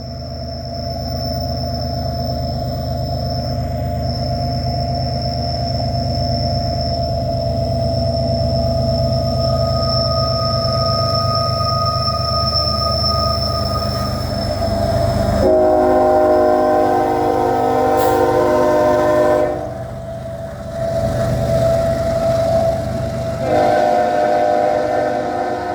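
CSX freight train hauling Conrail autoracks rumbles past in the rain, a loud continuous diesel drone with a long sustained horn blast, then repeated horn sounds as the cars roll by.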